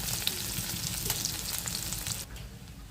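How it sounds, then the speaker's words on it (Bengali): Sliced onions fry in oil for biryani, a steady close sizzle with light stirring that thins out and quiets near the end; nobody speaks. "পেঁয়াজগুলো দিয়ে দিলাম। এবার আমি নেড়ে ছেড়ে বেরেস্তা করে নেব।"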